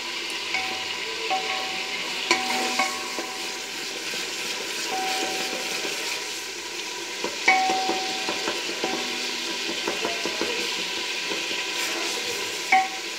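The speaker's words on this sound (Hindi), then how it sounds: "हम मसाले को मैश कर देते हैं इस तरह से, चम्मच की मदद से" A spoon mashes spices in a pan, scraping and tapping while food sizzles steadily, with occasional sharper clinks over the continuous frying hiss.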